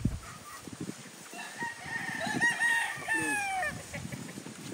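A gamefowl rooster at Lane's End Gamefarm crows one long, loud, wavering cock-a-doodle-doo that rises and bends across the middle of the clip, with faint clucking and farmyard background around it.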